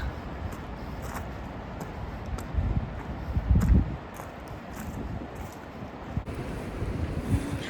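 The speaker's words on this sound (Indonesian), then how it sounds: "Itu airnya lumayan kencang ya." Fast, strong water rushes below, a steady broad roar with gusty swells, mixed with wind buffeting the microphone and no talk.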